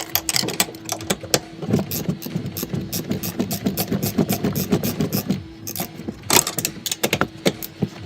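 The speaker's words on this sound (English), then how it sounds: "I'm going to use my wrench on that back bolt pretty easy, but using a gear wrench, so not too bad there." A gear wrench ratchets on a bolt during a Rough Country leveling kit install on truck suspension, giving rapid close clicking and mechanical rattling that continues throughout with a few sharper knocks.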